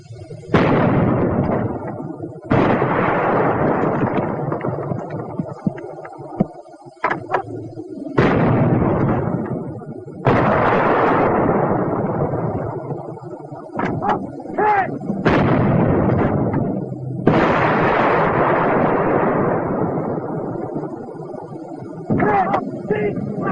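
Infantry weapons fire in a 1943 army training film: a series of loud, heavy booming blasts with long rumbling decays, about seven major bursts spread across the stretch, with a narrator speaking between them.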